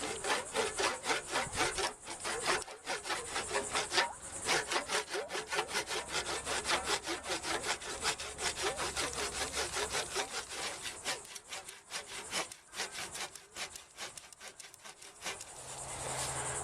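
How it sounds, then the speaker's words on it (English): A handsaw cuts through sprinkler pump pipe beside the couplings in steady, rapid back-and-forth strokes, loud and close, running continuously with only a brief pause, no talking. "I'm going to cut it off right by the couplings, and then leave the most amount of pipe I can to put the new couplings on."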